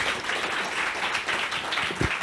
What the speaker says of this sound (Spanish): Con gran entusiasmo les pido que brinden un fuerte aplauso a nuestra última ponente, Marta Gómez